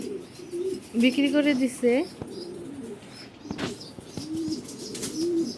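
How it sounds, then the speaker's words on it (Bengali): Domestic country pigeons kept in a room at home coo softly in short bursts, partly under a voice speaking nearby. "তো বাসায় দেশি কবুতর আরও অনেক আছে।"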